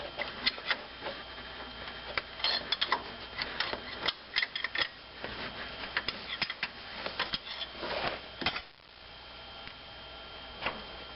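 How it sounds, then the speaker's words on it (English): A pry bar works out the front crankshaft seal on a Dodge Caravan 3.0L engine, giving a close run of sharp metallic clicks, ticks and scrapes in uneven bursts that quieten near the end. "A little pry bar here."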